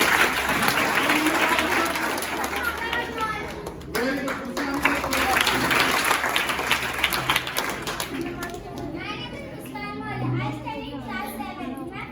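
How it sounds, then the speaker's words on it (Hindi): Schoolchildren clap loudly and continuously in a classroom after a pupil's introduction, a dense crowd of small hands near and bright, with children's chatter and an adult voice over the applause, thinning toward the end. "इसके जोरदार तालियां"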